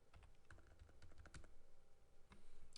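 Close, quiet typing on a computer keyboard, a quick run of light key clicks with a soft hum beneath.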